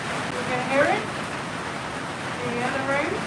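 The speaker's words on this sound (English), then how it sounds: "The rain is too loud." Steady rain falls as a continuous broadband hiss, fairly loud and unbroken throughout, with faint vocal sounds briefly surfacing beneath it.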